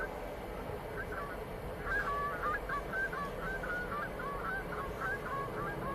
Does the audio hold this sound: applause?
no